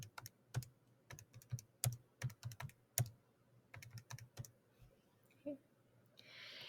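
Quick, light button presses on a graphing calculator keypad as numbers are entered, a close series of irregular soft clicks in short bursts, quiet, with no talking.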